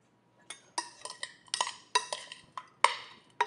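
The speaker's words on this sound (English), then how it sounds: "be generous, salt, and then we are going to stir this up." Seasoned chicken pieces being stirred with salt in a bowl, a quick series of close, bright clinks and scrapes of utensil against the bowl in an irregular rhythm.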